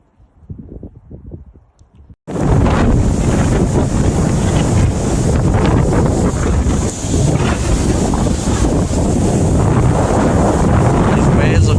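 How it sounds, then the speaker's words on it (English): Rough ocean waves and gusting wind at Huntington Beach State Park come in loud and close after a brief quiet start. Wind buffets the microphone, and the surf roars continuously. "These waves look a little rough."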